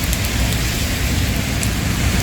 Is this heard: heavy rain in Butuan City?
yes